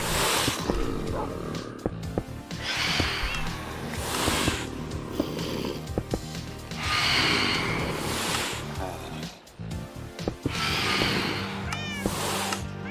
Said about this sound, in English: Is it the cats that are making this vicious sound right now?